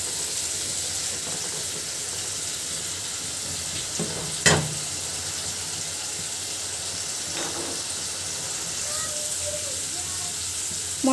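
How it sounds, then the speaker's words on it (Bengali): Spice paste frying in a pan for an egg curry, a steady close sizzle and hiss throughout, with a couple of sharp scraping clinks from the stirring spoon. "মশলাটা সুন্দর করে কষিয়ে নিব।"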